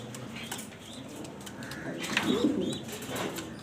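A racer pigeon coos in soft, rounded bursts up close, the calls swelling toward the middle, with faint chirps and light rustling around it.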